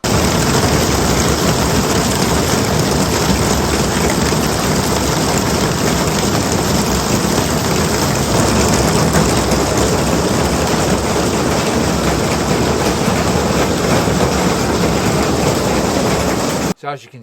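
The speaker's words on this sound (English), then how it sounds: "That rain was on for the rest of the day." Steady heavy rain pours down in a constant, dense hiss, close and loud, with a low rumble beneath like a running engine, continuing unbroken before cutting off abruptly at the end.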